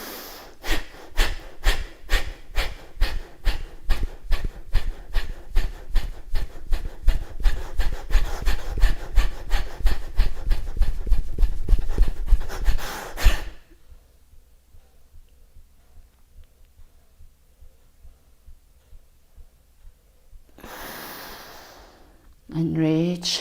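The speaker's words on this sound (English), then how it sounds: "Kapalabhati breath." A yoga practitioner does Kapalabhati breathing, with rapid, forceful, rhythmic exhalations pumping steadily for about thirteen seconds. Quiet follows, then a brief louder breath and movement near the end.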